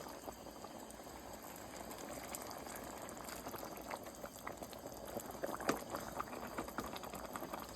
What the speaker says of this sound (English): So now we're just gonna let them cook for about 30 minutes